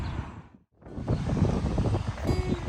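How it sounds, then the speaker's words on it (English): Strong wind on Bridlington seafront buffets the microphone with a rushing roar, dropping briefly before gusting back in hard. "Windy Bridlington seafront."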